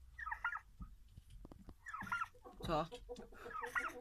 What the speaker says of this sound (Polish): Tu jest kurka z pisklaczkiem.